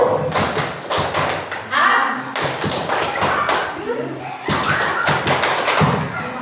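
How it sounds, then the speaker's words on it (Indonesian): An audience at a school training session repeats a patterned group clap, loud synchronized bursts of claps in a regular rhythm separated by brief pauses, with faint voices underneath. "Kita ulang satu kali lagi. Tepuk 3,"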